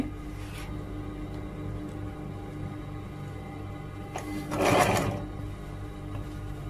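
A sewing machine stitches the pocket of a men's robe, a brief, close burst of mechanical whirring over a steady low room hum, with faint clicks around it.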